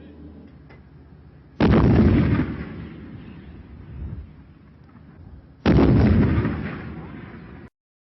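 Two heavy artillery shots several seconds apart, each a sudden loud boom followed by a long rumbling decay, over faint background sound.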